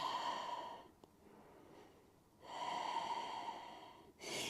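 Slow, steady exhalation through the nose during a yoga pose, two long soft breath sounds separated by a quiet pause, close and fairly faint with no talking.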